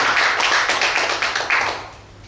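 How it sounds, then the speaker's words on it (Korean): A crowd claps together in a brief burst of applause that fades out after a couple of seconds. "맞으면 박수 한번 쳐봐요."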